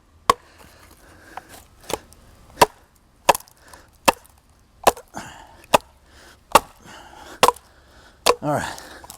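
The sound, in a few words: Schrade SCHF43 hatchet chopping wood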